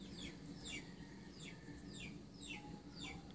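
Miner Blue chickens in a brood pen, a soft, distant series of repeated clucks and short calls over faint background noise.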